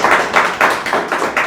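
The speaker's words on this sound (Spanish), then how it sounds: "Agradecerle los aplausos" People in an audience at a local political event in Otavalo clapping, about six rhythmic bursts of hand claps in quick succession, close and loud, with no talking.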